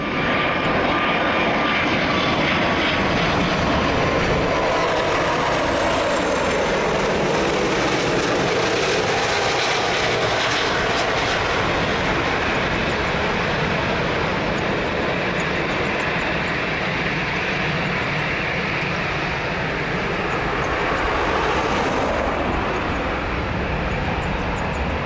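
A fixed-wing airliner departs Lisbon Airport, its jet engines roaring loud and steady for the full stretch, with the broadband rumble swelling and shifting slightly as it climbs out nearby.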